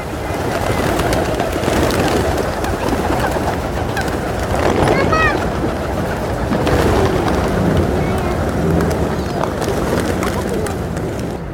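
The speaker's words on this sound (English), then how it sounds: "So you might have heard all those wings going past" A flock of pigeons in Regent's Park, London, swarms for scattered seed, their wings flapping and whirring close by in a dense, continuous flutter, with some cooing and wind buffeting the microphone.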